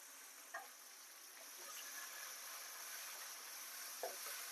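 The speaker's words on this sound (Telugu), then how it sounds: "ఉల్లిగడ్డకు గోల్డ్గా ఉన్నట్టు దాంట్లోనే కొంచెం కరివేపాకు వేసుకుందాము" Onions cooked golden in oil with curry leaves added for carrot rice give off a faint, steady sizzle, with a couple of small pops and clinks and no talking.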